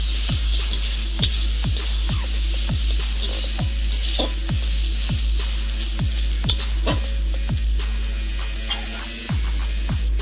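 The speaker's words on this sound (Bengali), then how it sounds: "এখন মাছের মাথা দেওয়ার পরে একটু নেড়ে চেড়ে মিক্স করে এটাকে ভাজার জন্য রেখে দেবো" Fish head frying in a pan of oil, with a steady close sizzle broken by about a dozen regular scraping strokes as it is stirred and mixed. No one speaks.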